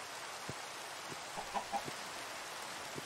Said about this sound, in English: That's the wrong kind of chicken,